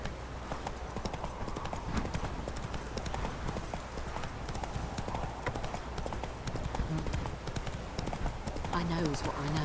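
Horse hooves from The Witcher 3: Wild Hunt beat in a rapid, steady clip-clop rhythm throughout, with people talking over the running hooves.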